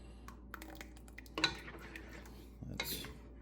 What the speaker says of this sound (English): You can see as I whisk through it how it leaves lines behind.